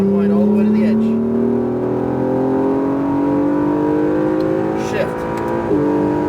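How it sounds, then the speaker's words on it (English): An Acura NSX on a race track accelerates hard out of a corner, its engine note climbing steadily in pitch. The engine sounds loud and close, with a voice talking over it. "now accelerate fast out of the corner"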